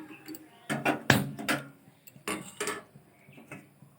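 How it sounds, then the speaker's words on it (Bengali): A metal kadai (wok) is set down on a gas stove with several sharp metallic clanks and scrapes, close by, in irregular bursts amid kitchen quiet. "কড়াই বসিয়ে দেব।"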